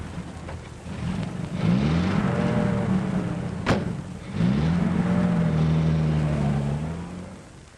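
An old 1930s car pulls away, its engine rising in pitch in two revving surges with a brief lull between, loud and close before fading slightly at the end.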